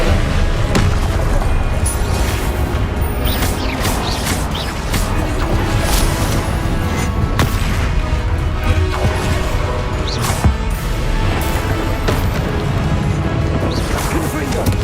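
The Confringo spell detonates again and again in Hogwarts Legacy, a loud, continuous barrage of booms, crashes and whooshes with game voices mixed in.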